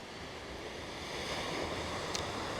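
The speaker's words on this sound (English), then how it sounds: "I don't know if you can hear the waves crashing behind me" Ocean waves wash in behind an outdoor painting session, a faint, continuous surf rumble mixed with light wind noise, with one brief crackle near the end and no voices.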